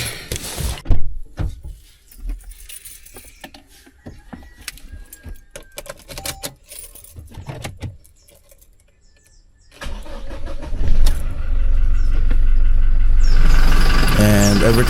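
A pickup truck called Cargador starts up: clicks and clunks come first, then the engine cranks and catches into a loud, steady idle, with voices heard around it.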